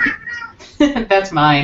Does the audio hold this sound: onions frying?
no